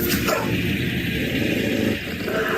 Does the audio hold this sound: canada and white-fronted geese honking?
no